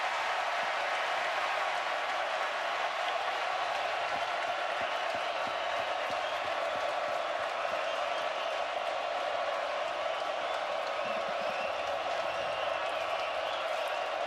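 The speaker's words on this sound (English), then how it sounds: "Listen to the crowd." At a College World Series finals baseball game, a large stadium crowd keeps up a steady, distant roar of cheering and noise throughout.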